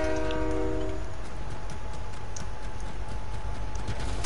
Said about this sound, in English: Train's pulling up.